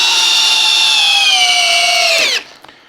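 A Metabo HPT power driver whines loudly and steadily as it sinks an 8-inch timber lock screw into wood, its pitch sagging slightly under load before the motor cuts off abruptly near the end.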